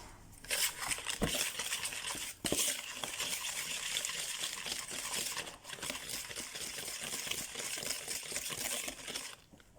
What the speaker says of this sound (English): So first what we will do is we will cream the butter and the sugar till fluffy